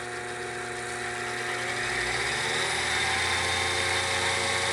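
A Grizzly G0781 mill running at full speed on a newly fitted belt drive, giving a steady, fairly quiet mechanical hum with a faint whine, continuous and close.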